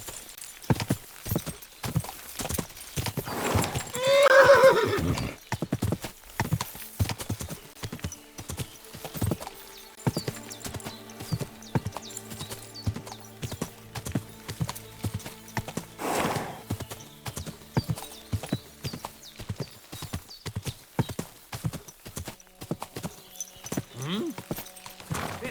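Horse hooves clip-clop steadily throughout a Kingdom Come: Deliverance II scene, with a loud neigh rising near the start and some voice-like sounds among the hoofbeats.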